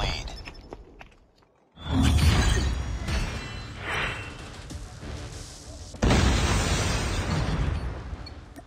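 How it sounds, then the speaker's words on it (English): A predator missile blast in Call of Duty Mobile: a loud booming explosion with a whooshing rush, then a second heavy burst of rumbling noise, with game voice callouts mixed in. "Friendly predator missile inbound."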